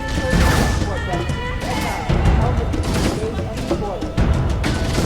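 Gunfire aboard a ship under alien attack in the video game Halo CE Anniversary: bursts of shots and crashing impacts mixed with explosions, loud and chaotic, while someone talks over the action.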